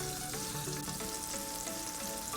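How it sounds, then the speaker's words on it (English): About two tablespoons of butter melt and sizzle in a pot for a chicken stir-fry, giving a steady, close, continuous frying hiss with no voices. "about 2 tablespoons of butter in the pot, and we wait for it to melt"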